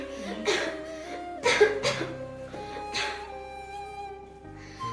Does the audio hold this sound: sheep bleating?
no